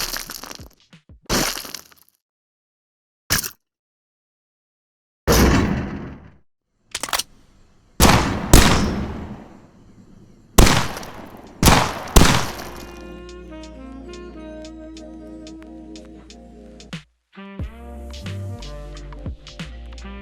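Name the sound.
gunfire and bullet impact sounds in a video game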